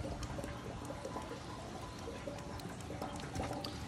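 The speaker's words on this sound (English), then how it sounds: "You can hear the water going in." Water pours steadily into rain barrels in a multi-barrel collection system, a continuous close splashing rush with a gurgling trickle, steady throughout with no talk.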